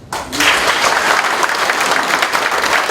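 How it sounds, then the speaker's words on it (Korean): An audience gives a loud burst of welcoming applause for a National Assembly member taking the stage, dense clapping starting sharply after a brief quiet moment and continuing steadily. "변화와 혁신의 리더 유대훈 의원님을 큰 박수로 맞이해 주십시오."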